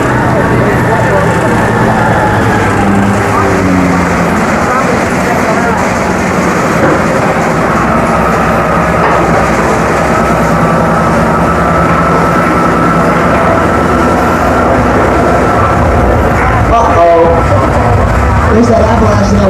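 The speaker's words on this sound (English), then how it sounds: "There's that avalanche that I warned you about." A loud, continuous rumbling roar of a simulated avalanche on a studio tram ride fills the whole stretch, rattling and clattering like heavy movement, with a sharper burst near the end.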